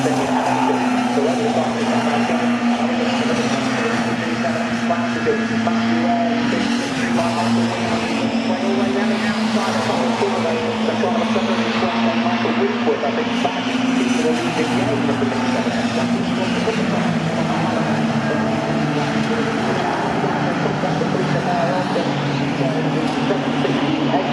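Mini Sevens race cars cross the start-finish line at Cadwell Park, their engines a steady, loud droning roar that carries on under continuous race commentary.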